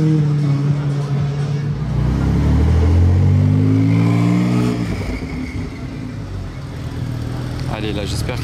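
A Koenigsegg Agera supercar in Monaco revs its engine and accelerates, a loud rising and falling engine note building over several seconds at close range, with crowd chatter around it.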